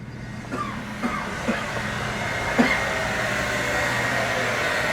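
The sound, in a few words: hair dryer running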